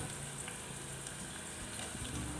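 Shallots and garlic sautéing directly in the biryani pot, a steady soft sizzle and crackle of frying in oil, continuous and close with no voices.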